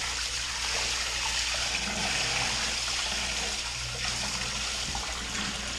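A household sump pump running and pumping water, giving a loud, continuous rushing and gushing flow throughout with a low hum underneath.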